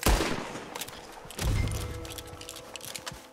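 Gunfire in a video game, a close burst of rapid shots at the start followed by a second heavy volley and scattered follow-up pops, with no speech over it.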